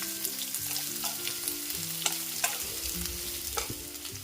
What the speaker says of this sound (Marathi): कैरी 1 मिनिट आपण तेलात परतली की आपण त्यात बाकीचे मसाले घालून घेणार आहोत.